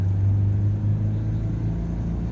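A Mahindra Bolero three-cylinder engine pulls in second gear on a highway, a low steady droning rumble heard from inside the cabin, holding fairly even over a couple of seconds with no voices.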